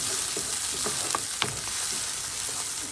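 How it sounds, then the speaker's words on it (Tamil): Steady, close sizzling of onions and dried red chillies sautéing in hot oil, with occasional crackles and light stirring scrapes, no voices. "இப்போ இதை நல்லா வதக்கிடலாம்"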